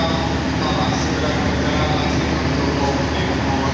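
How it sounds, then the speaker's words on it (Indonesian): A CC206 locomotive on the Ranggajati train moves along the rails, giving a steady, loud, dense rumble heard from inside without pause. "Lokomotif CC206 kereta api Ranggajati pindah ke belakang, jadi balik arah"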